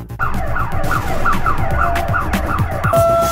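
A fire engine siren wails in fast, repeating rising-and-falling sweeps, loud and close, over a steady rumble of traffic, as engines respond to an apartment fire.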